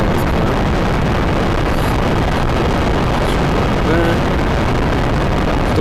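Rocket engines firing in the video game Spaceflight Simulator give a steady, dense roaring rumble that stays loud and even throughout, with no break.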